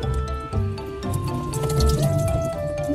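Water draining down a kitchen sink that had been clogged with grime, a close gurgling trickle with drips and liquid squishing, steady over a few seconds.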